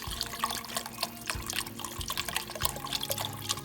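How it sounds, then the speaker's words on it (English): Broth and water poured into a pot for alphabet soup, a continuous close splashing trickle with small bubbling drips, no talking. "so same amount of water I'm going to add to this"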